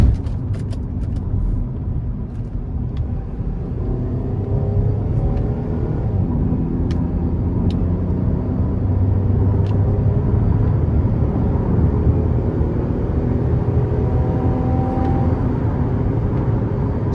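A 2011 Cadillac SRX cruises the interstate in sport mode, its engine and road noise a steady, close, unbroken rumble with a faint hiss of wind over it and no talking.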